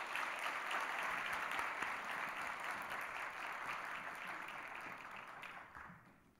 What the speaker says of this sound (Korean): 뜨겁게 격려의 박수 부탁드리겠습니다